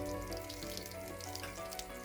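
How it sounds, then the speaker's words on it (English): Butter frying hot in a pan for a Turkish Hunkar Begendi kebab, giving a steady crackling sizzle with scattered pops, close and fairly quiet, with no talking. "Fry the butter completely hot."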